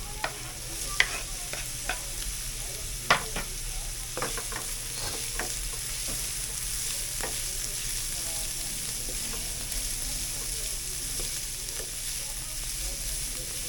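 Onions frying in a small amount of oil in a pan, a steady sizzle running throughout with a few sharp clicks of stirring early on, close and moderately loud.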